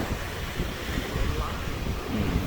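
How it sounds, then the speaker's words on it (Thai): Ocean waves washing onto a beach, a steady low surging rumble with wind buffeting the microphone, rising slightly toward the end. "นี่มีคลื่นซัดเข้ามาแล้วครับ"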